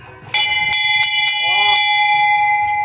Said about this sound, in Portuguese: Aí o sino do alemão.